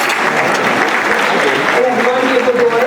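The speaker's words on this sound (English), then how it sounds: "Can we get a round of applause for Black Ron?" An audience at a women's empowerment brunch breaks into loud, dense applause for an honoree, close and continuous, with voices mixed into the clapping.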